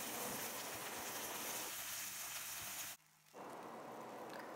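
Tofu pan-frying to golden brown for Korean gochujang braised tofu, a steady broadband sizzle that runs loud and unbroken, briefly dropping away for a moment near the end before resuming.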